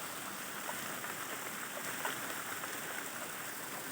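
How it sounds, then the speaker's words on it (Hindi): Steady spring rain falls outdoors in a rural setting, a constant broadband patter and hiss with scattered individual drops, even and unbroken throughout. "शुरू हुई है बारिश का"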